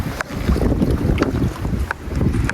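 Gusty wind rumbles against the microphone in low, uneven bursts, with faint splashing or knocking sounds now and then.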